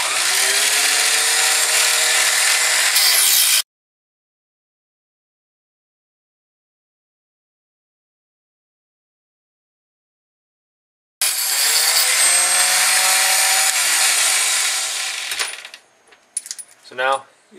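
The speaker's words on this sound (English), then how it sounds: "So I'm going to use my Harbor Freight chop saw with a jig and we'll get these trimmed up here." A Harbor Freight chop saw with a jig cutting 277 Wolverine brass cases gives two loud, sustained whining cuts separated by a long silence, and the second cut ends with a few brief clattering sounds.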